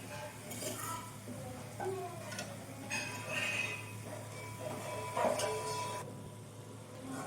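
Fried chicken is tipped into a masala in a pan for butter chicken and stirred, giving scattered metallic clinks and scrapes of a spoon against the pan that come in irregular bursts over a steady low hum.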